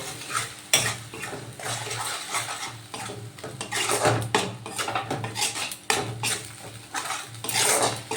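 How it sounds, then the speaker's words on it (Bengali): Spice paste with salt and Kashmiri chilli powder is stirred and fried in a pan for a dhaniya rui fish dish. Loud metallic scrapes and clanks of a spatula come in uneven bursts over a soft sizzle, with no speech. "এবার আমি মশলাটা ভালো করে কষিয়ে নেব"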